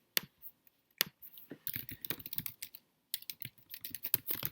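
Typing on a computer keyboard, with close, irregular bursts of quick clicking keystrokes separated by short pauses and no talking.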